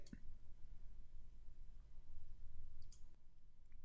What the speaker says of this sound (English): Then click Update.